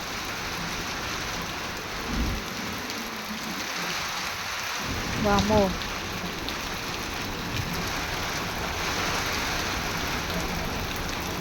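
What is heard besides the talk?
heavy rain pouring down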